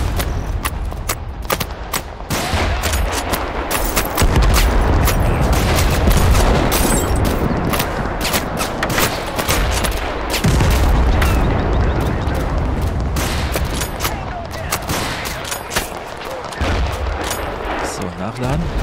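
Gunfire and grenade blasts in the video game Total Conflict: Resistance, with dense bursts of rapid shots and heavy booming explosions filling the whole stretch, loud and continuous, with players talking now and then.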